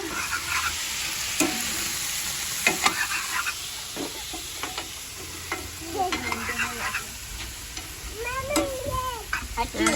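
Greens frying in a pan with onion, green chilies and tomato, stirred repeatedly with a spoon; a steady sizzle runs throughout, broken by scraping, clinking strokes close by, with no talking.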